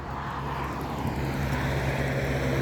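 A propeller cloud-seeding aircraft flying overhead, a loud, steady engine drone that holds constant throughout with no voices.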